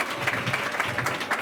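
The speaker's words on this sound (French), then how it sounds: "Donc encore un applaudissement pour vous." Audience applause at a school New Year greetings and back-to-school ceremony, steady dense clapping from a crowd throughout, fairly loud and even.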